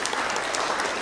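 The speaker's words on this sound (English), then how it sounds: "Round of applause." A short burst of audience applause at a sales seminar, dense steady clapping filling about a second with no break.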